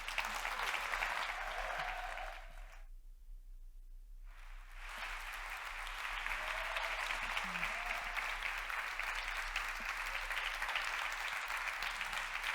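Sustained audience applause welcoming Professor Wilda C. Gafney at an evening talk in May 2024, a steady wash of many clapping hands from a seated crowd, dipping briefly before swelling back and continuing evenly.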